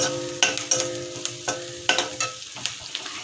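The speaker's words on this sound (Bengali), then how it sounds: "দেখো আমাদের পেঁয়াজটা ভাজা হয়ে গেছে" Onions frying in a pan for a jackfruit and prawn dish, a steady sizzle broken by several sharp stirring scrapes and clinks of a spatula, close and fairly loud.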